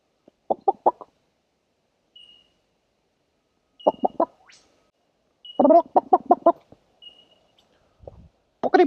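Chicken clucking in short bursts, close and fairly loud, with several separate clusters of rapid clucks spaced across a few seconds and quiet gaps between them.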